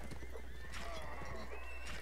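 Horse in the Mount & Blade game during a siege battle, whinnying over a bed of clopping hooves, fairly faint and brief within battle noise.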